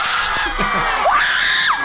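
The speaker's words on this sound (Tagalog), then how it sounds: "nagulat ako doon sa sumigaw" A loud shout rises over crowd noise: several voices yelling and cheering together, with one sharp scream climbing and holding near the end.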